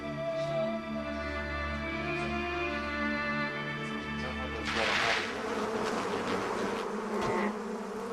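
Killer bees, an aggressive swarm, buzzing loudly and close with a steady droning hum that swells into a denser, harsher swarm noise partway through.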